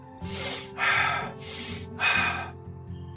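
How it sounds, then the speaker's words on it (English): Four deep, forceful breaths in quick succession, alternating inhale and exhale, close to the microphone with a rough, airy rush. "The repetitive breathing more quickly and deeply, this kind of thing"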